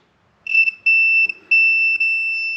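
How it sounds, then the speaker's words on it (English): A high, piercing electronic tone from an ignition points timing tester on a Douglas D28 motorcycle engine sounds in three stretches: a short burst, then two long sustained beeps with brief breaks between them, marking the points closing. "when you hear it beep, that's when the points are closed"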